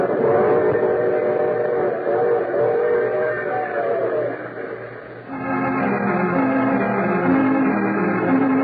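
Train sound effect from an old radio drama: a steady, loud rumbling rail roll that shifts midway to a rhythmic clatter with whistle-like tones, running alone for several seconds.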